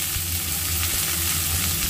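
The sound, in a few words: chopped onion and garlic sizzling in hot oil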